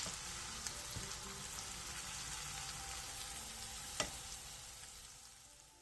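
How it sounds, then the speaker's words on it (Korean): Rolls of pork belly wrapped around kimchi fry in a pan with a soft, steady sizzle throughout and a few faint clicks as the pieces are turned. "바닥이 노릇노릇해지면 뒤집은 뒤 마저 노릇노릇하게 붙여주고 고기가 골고루 익을 수 있게 옆면도 한 번씩 세워서 붙여주세요"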